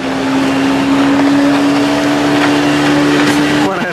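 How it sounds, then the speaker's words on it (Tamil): A motorboat on a lake in Nuwara Eliya drones steadily at close range with a constant engine hum under wind and water rush, and a voice can be heard faintly. "கரை வேறு இந்த லேக்கில் இப்படி போட் ரைட் போய் கொண்டிருக்கேன்."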